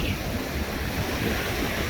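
Sea waves wash onto a beach in a loud, close, continuous surge, mixed with gusty wind buffeting the microphone.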